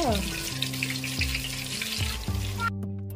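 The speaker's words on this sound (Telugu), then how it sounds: "ఆయిల్ కొంచెం వేడెక్కాక కొంచెం మెంతులు ఆవాలు జీలకర్ర ఎండుమిర్చి పచ్చిమిరపకాయలు బాగా వేగాక" Mustard seeds, cumin, fenugreek, dried red chillies and green chillies sizzle steadily in hot oil for fish pulusu, with a continuous close crackle and low hum, cutting off abruptly near the end.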